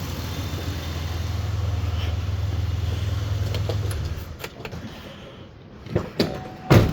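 A car engine idles with a low steady hum and then cuts off, leaving quiet. Several sharp thumps of a car door opening and slamming shut follow close by, the last one loudest.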